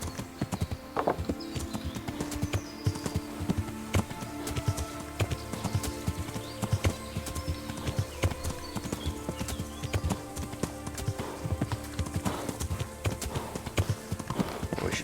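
Horse hooves clip-clop in a steady, continuous rhythm while riding in Kingdom Come: Deliverance, close and even throughout with faint background ambience and a possible brief whinny.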